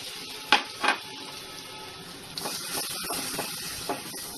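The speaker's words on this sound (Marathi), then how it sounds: "व्हाईट सॉस बनवण्यासाठी आपण पॅन गरम करत ठेवलेला आहे, त्यामध्ये मी बटर टाकते" Butter melting in a hot pan for white sauce gives a soft, low sizzling hiss that swells after a couple of light utensil clinks, quiet and close.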